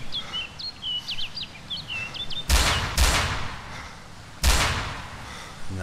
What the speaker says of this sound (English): I would have saw smoke when he just shot that time.